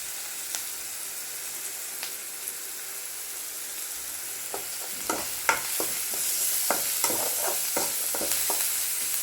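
Onions sautéing in a pan while cooking banana flower stir-fry, with steady sizzling and frying hiss, spoon stirring clicks and scrapes growing busier toward the end, close and moderately loud with no talking.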